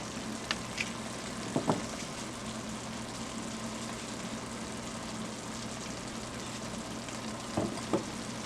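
Corned beef gravy simmering in a pan over low heat, giving a soft, steady frying hiss with a few faint pops and crackles; no talking.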